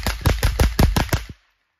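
Nine rapid shots from a 5.56 rifle fired in an even, quick cadence, loud and close, each crack sharp and distinct, ending abruptly with a brief tail of echo.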